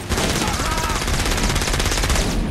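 Enemies open fire on the player in Saints Row IV, a rapid, continuous machine-gun burst crackling loud and close for a couple of seconds.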